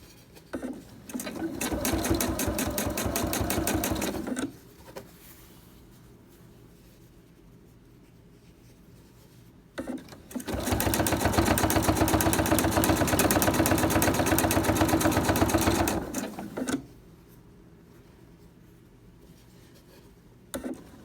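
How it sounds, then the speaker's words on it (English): A sewing machine attaches binding to a quilt in two long runs of rapid, even stitching, each a few seconds long and separated by a quiet pause. The motor hum is close and steady, with no talk. "I'm going to sew to the next corner"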